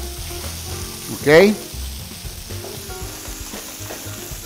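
Rice with chicken, green chile and onion sizzles as it fries in a pan, a steady crackle with one louder burst of sizzling and stirring near the middle.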